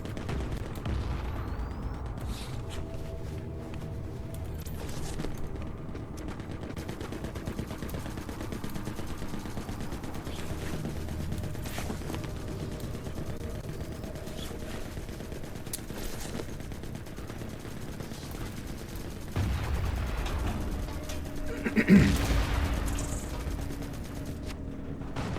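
Continuous distant gunfire and explosions from a battlefield in the video game The Forever Winter, with rattling bursts over a dense rumbling bed and a louder, heavier blast swelling near the end, no voices.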